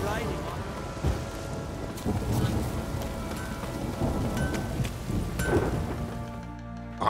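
Heavy rain and rolling thunder in Witcher 3: Wild Hunt, a dense downpour with repeated deep rumbles and cracks, loud and close, fading at the very end.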